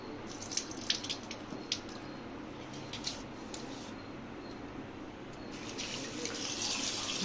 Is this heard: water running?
yes